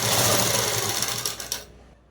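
A sewing machine stitches fabric in a fast continuous whirring rattle, loud and close, slowing with a few final clunks before stopping into quiet.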